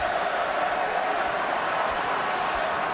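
Broad, steady crowd applause and noise fills a rugby stadium during a Wales versus Argentina match, a continuous distant wash with no distinct claps standing out.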